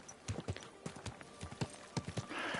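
Horse hooves clip-clop in an irregular walking rhythm in Kingdom Come Deliverance 2, close and crisp, with a brief whinny-like sound toward the end over light ambient background.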